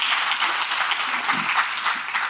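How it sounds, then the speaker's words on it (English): Keynote audience at the Rise & Record 2022 event applauds steadily, a dense even wash of clapping filling the whole short stretch with no voices on top. "Let's give Rob a round of applause."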